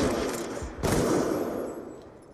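Rifle shots in a shooter video game: a close, loud burst of rapid gunfire at the start, then a single sharp crack followed by a long fading echo.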